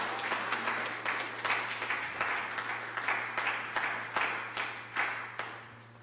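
Congregation applauding in a church service, a steady wash of many hands clapping with rhythmic surges throughout, fairly close and full, with a low steady hum underneath and no talk.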